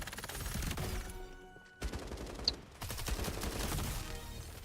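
Rapid bursts of gunfire in the FragPunk video game during a semifinal esports match, continuous dense shooting with a short lull and a few sharp impacts.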